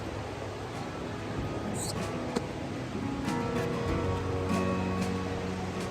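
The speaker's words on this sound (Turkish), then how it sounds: "biz geldik şelaleye" A steady wash of flowing water fills the whole stretch, a small waterfall's constant trickle and splash in Kastamonu, Turkey, fairly close, with no voices over it.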